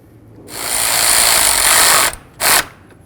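Power drill driving mounting bolts into the shroud of a 2005-14 Ford Mustang during coolant reservoir replacement, one loud sustained whir of about one and a half seconds, then a short second burst.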